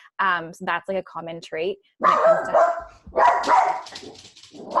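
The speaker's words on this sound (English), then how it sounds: "That's just my dog." A household dog barks and yips in a few sharp bursts at the start, then a person talks over a faint whimper.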